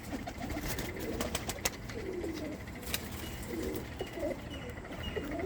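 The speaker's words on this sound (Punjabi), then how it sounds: "ਇੱਕ ਲਾਲ ਚੀਨੀ ਕਬੂਤਰ ਹੈ ਬਾਈ ਕਬੂਤਰ ਹੈ ਨਾਰਾ ਬਾਈ ਲਾਲ ਚੀਨਾ" A red Chinese pigeon and its loft mates coo in soft, rolling low phrases that repeat steadily, close by, over a constant hiss of background noise with a few faint chirps mixed in.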